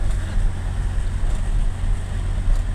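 A truck rolling downhill on a slippery mountain road between Baguio and La Union, a loud low steady engine and road rumble heard from nearby, with no voices.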